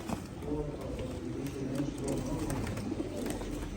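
Pigeons coo softly in a busy, close setting while people talk nearby.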